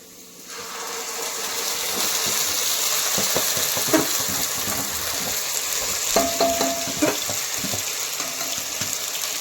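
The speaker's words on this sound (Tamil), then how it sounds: "போட்டு நல்லா கிளறிக்கலாம்." Ginger garlic paste for biryani frying in a pan, a continuous loud sizzle with scattered scraping and knocking as it is stirred, close up and without speech.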